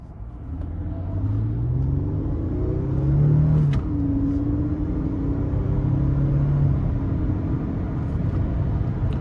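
A 2008 Lexus ES 350 with a 3.5-litre V6 accelerating hard, its engine rumble climbing in pitch through a gear change, steady and prominent from inside the car.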